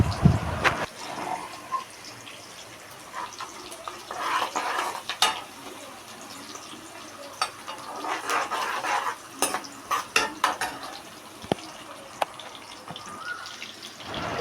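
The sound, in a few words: stirring and sautéing chopped onions in a pan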